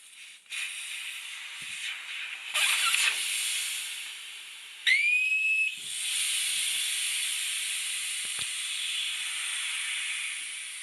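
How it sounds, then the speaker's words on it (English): Air hisses out of a tire through the open valve stem once the valve core is removed. Several loud bursts of hiss come and go, with a brief whistling tone partway through and a steadier hiss toward the end. "I'm going to remove the valve core from this guy, and we'll let the air out of the tire"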